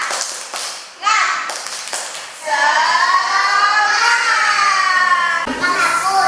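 Young schoolchildren in a first-grade classroom chant together in a loud, rhythmic group cheer, with sharp claps at the start and a sustained shouted chant afterward.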